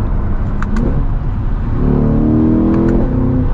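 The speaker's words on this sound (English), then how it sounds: "I want that window down though, so I can hear the engine." A 2023 Chevrolet Corvette Z51 Convertible engine hums steadily up close, then its note rises and strengthens as the car accelerates, heard from inside the cabin with the window down.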